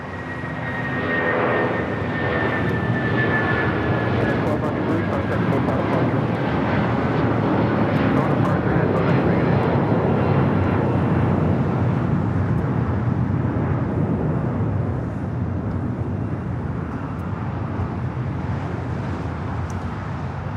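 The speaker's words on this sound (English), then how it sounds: "The second United 757 already starting its roll down to 25 right." A United Boeing 757 airliner begins its takeoff roll on runway 25 right at LAX, its jet engines building into a loud, steady roar with a rising whine that holds for the full twenty seconds, with no voices over it.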